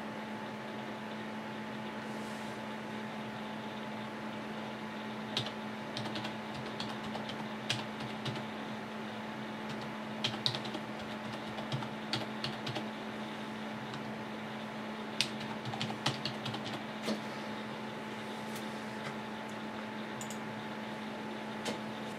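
Keys tap on a computer keyboard in short, scattered bursts over a steady electrical hum and faint fan noise, the clicks soft and irregular.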